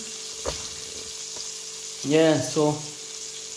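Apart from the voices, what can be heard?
chicken frying in oil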